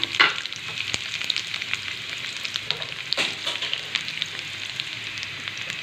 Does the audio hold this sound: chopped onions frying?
yes